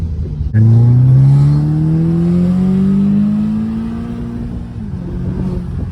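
A 2015 Audi S3 with a stage 2 tune and a new diverter valve accelerates hard from inside the car, a loud steady engine note climbing smoothly in pitch for several seconds before easing off at a shift.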